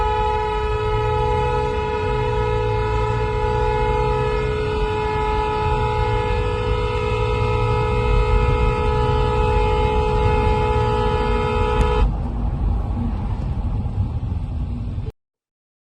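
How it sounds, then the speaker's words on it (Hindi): A horn sounds from inside a moving car running beside a parallel track: a loud, sustained single blast holds a steady pitch for about twelve seconds over a constant rolling rumble, then cuts off abruptly. "वो साउंड भी सुनाई देगा जो हॉर्न बजाया"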